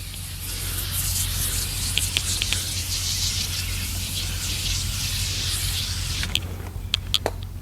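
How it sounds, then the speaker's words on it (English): Armor All ceramic wheel cleaner hisses from a spray bottle onto a car wheel, a steady, close, even spray running throughout with a few sharp clicks near the end. "It said spray evenly again at the end."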